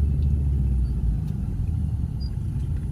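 A car engine rumbles low and steady from inside the cabin while driving in traffic, a constant near drone with no talk.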